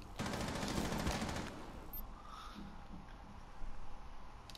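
A rapid, dense burst of game gunfire rattles for about a second and a half, then fades to quieter scattered shots and background noise.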